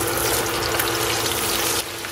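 Marinated chicken pieces frying in hot oil give a loud, steady, dense sizzle from close up that eases off slightly near the end.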